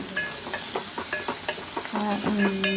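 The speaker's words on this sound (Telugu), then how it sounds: "అన్నీ కలుపుకోవాలి బాగా పచ్చివాసన పోయేంత వరకు కలుపుకోవాలి వేగనివ్వాలి" Onion masala for omelette curry fries in a pan with a constant close sizzle while a spoon stirs and scrapes in quick, repeated strokes, with occasional metallic clinks.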